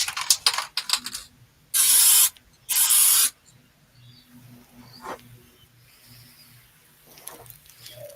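A spray can of lacquer, used in a woodworking shop on pine, hisses out two loud, close bursts of about half a second each, surrounded by quieter handling clicks and knocks.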